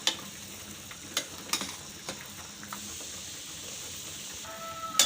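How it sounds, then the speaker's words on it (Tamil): Faint, occasional scraping clicks of a spoon stirring vegetables in a pan over a soft, steady sizzle, with a few sharper knocks spaced apart. "மெதுவாக அப்படியே கலந்து விட்டுக்கோங்க"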